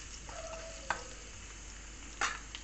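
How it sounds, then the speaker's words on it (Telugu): Quiet sizzling of cumin and asafoetida in hot oil, with a couple of brief clinks and stirring scrapes of a spoon against the pan. "ముందు కొద్దిగా వేయించుకోవాలి"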